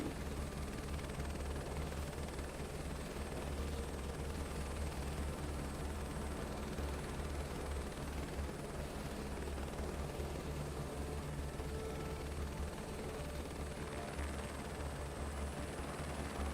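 A rescue helicopter in Microsoft Flight Simulator 2024 drones with a steady, even rotor and turbine roar, continuous and unchanging throughout, fairly quiet in level.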